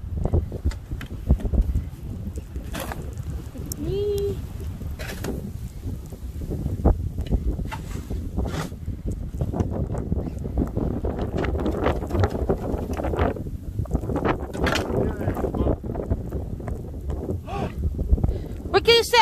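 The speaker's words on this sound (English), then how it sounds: "Very, very cold. Hard wind." Hard wind buffeting through a cold snowstorm at around minus 5, a steady rough roar with gusty bursts running throughout, with people talking over it.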